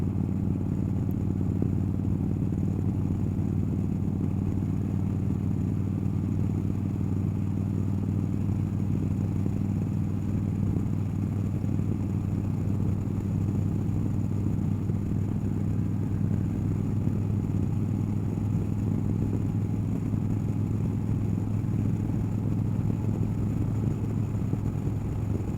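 A motorcycle engine runs steadily throughout, a low constant idle-like drone with faint mechanical clatter, fairly distant and unchanging, with no voices over it.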